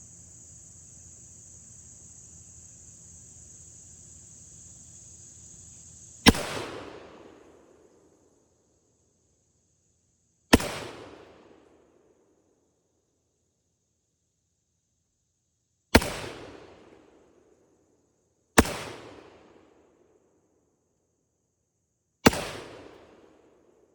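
An AR-12 12-gauge semi-automatic shotgun loaded with 3-inch magnum shells fires five loud, sharp blasts at irregular intervals until empty, each followed by a short decaying echo, after a faint steady hum.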